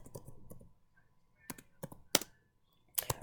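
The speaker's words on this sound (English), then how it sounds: "they can start typing" Keys clatter on a computer keyboard in short, scattered bursts of sharp clicks, with quiet gaps between them and no voices.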